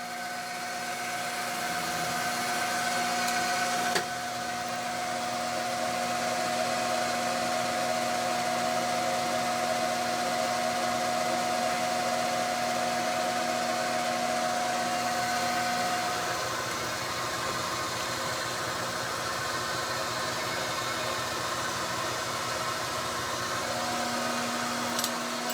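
A milling machine runs an end mill around the perimeter of stock held to the base plate with superglue. It gives a steady, fairly faint mechanical hum with sustained whining tones and no talking.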